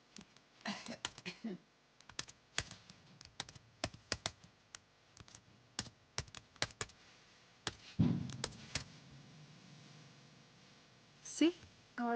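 Typing a name on a computer keyboard: bursts of crisp, separate key clicks in an uneven rhythm, close and clear, with a brief low thump partway through and a short voice near the end.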